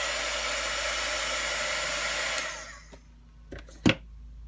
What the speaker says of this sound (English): before I turn on the heat gun